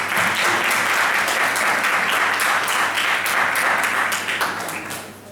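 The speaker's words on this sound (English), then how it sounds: "So please do give them a round of applause." A Model United Nations conference audience gives a round of applause, with dense, even clapping sustained at full strength for about four seconds before tapering off.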